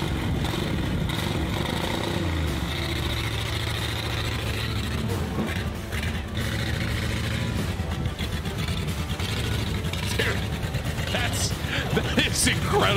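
A 1969 Dodge Charger engine runs steadily as the car moves, a low continuous drone carrying through the whole stretch, fairly loud, with voices talking over it.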